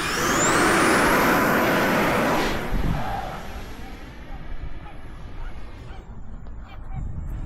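F-15 jet engine in a flight video game, a loud sustained roar with a high whine at first that settles into a steadier, softer rumble.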